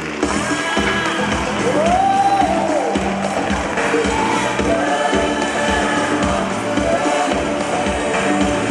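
Audience applause at a Singapore bird show with flamingos: a loud crowd clatter of many hands clapping steadily, with cheers and a brief whistle-like call mixed in.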